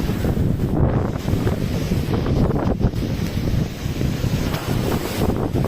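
Strong gusty storm wind with unseasonal rain buffets the microphone in a continuous heavy rumble, rising and falling slightly without pause.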